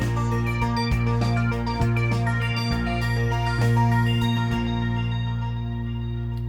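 An Arturia SQ-80V synth sequence plays an arpeggio that climbs to its highest notes over a sustained low drone, with a steady repeating pulse and high tones tinkling and slowly thinning out, no voices.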